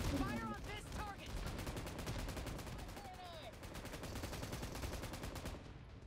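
Vehicle-mounted gunfire from a vehicle-to-vehicle fight in PUBG Mobile's Evoground mode. Continuous rapid automatic fire runs steadily throughout at moderate volume, with a brief voice near the start.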